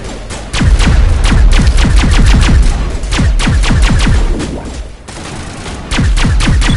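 Gunfire fills a firefight in the video game Mass Effect Legendary Edition, loud rapid bursts of automatic shots with heavy thumps, near and dense, dropping briefly before resuming, with no talk.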